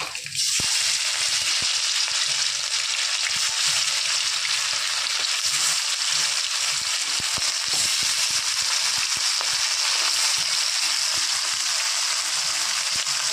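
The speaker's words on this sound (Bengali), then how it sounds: "বাদবাকি মাছগুলো আবার ভেজে নেব।" Pieces of falli fish fry in hot oil, giving a dense, steady sizzle that crackles loudly and continuously throughout, with no talking.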